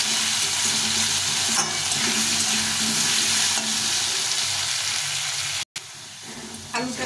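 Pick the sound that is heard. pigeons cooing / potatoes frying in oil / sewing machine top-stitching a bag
potatoes frying in oil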